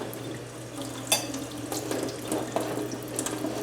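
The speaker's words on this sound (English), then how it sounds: "we're just scraping it and washing it off" Wax residue being scraped and washed off under a running tap, with a steady gush of water into a sink, broken by a few brief scraping knocks and splashes, close and continuous.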